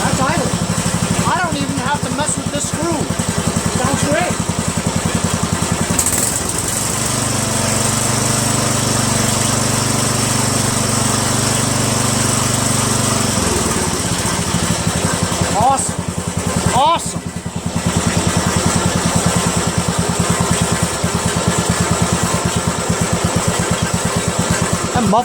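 A Poulan 16.5HP lawn tractor engine idles steadily at close range, a loud continuous low throb that dips in pitch midway and runs throughout.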